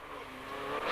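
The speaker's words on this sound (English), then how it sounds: "Now we're on board with Hakan Eriksson, clipping the wall in the Peugeot." Onboard a Peugeot 309 GTI rally car driven by Hakan Eriksson, the engine revving and building steadily over a second of loud, close, continuous roar with no talk.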